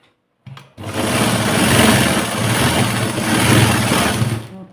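An electric sewing machine stitches a blouse hem in one continuous burst of rapid, even whirring and clatter, close and loud, after a short start-up.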